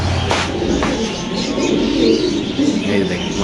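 Spanish pigeons coo at a pigeon farm, a loud, steady low cooing that fills the moment amid other birds, with a voice talking nearby.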